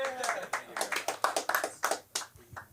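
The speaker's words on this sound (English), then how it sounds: "Give our newcomer a round of applause, shall we?" A small comedy-class audience gives a newcomer a round of applause: a dozen or so distinct, sparse hand claps in an uneven rhythm, close and fairly dry, fading out at the end.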